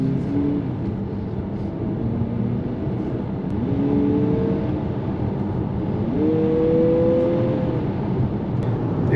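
A 2023 Mazda CX-50 turbo accelerates with its engine note rising in steps through several gear changes. It is heard from inside the cabin over a steady road hum, moderately loud, with no talk.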